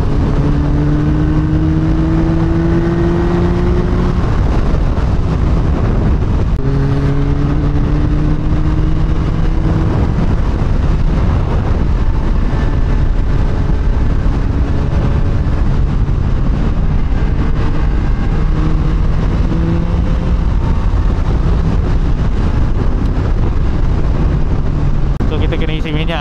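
A 2025 Yamaha MT-09 V4 engine runs continuously while riding, its pitch climbing through repeated gear changes with wind rush beneath, loud and close throughout.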